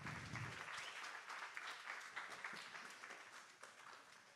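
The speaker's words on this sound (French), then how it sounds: "Une bonne main d'applaudissements pour Audrey." An audience at a technology innovation presentation applauds, a steady wash of many clapping hands, somewhat distant and soft, tapering slightly toward the end.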